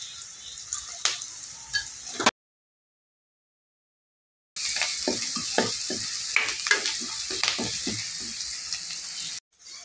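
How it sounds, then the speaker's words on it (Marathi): Onion frying in oil with turmeric for crispy pohe, a close, steady sizzle with repeated light spoon stirs and clinks, cut by a stretch of silence midway. "कांदा चांगला परतून घ्यायचा आहे आपल्याला तेलामध्ये।"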